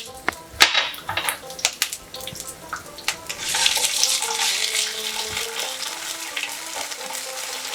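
Ginger paste and onions sauté in a pan for moong dal with fish head, a steady oily sizzle broken by sharp scraping stirs and clatters of the spoon against the pan, close and fairly loud.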